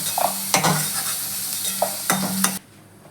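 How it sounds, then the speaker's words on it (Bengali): Potatoes fry in a pan until reddened, with a loud close sizzle and a few sharp stirring scrapes before the sound drops off near the end. "আলুটাকে আমি একটু লাল করে ভেজে নিচ্ছি।"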